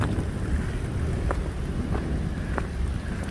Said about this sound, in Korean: 천둥이 자꾸 너무 세게 칩니다.